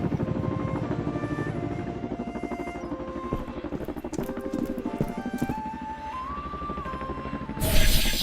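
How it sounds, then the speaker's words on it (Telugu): A steady, throbbing helicopter rotor drones throughout at moderate loudness, with a brief burst of hiss near the end. "ఆకాశంలో ఒక హెలికాప్టర్ శబ్దం వినిపించింది"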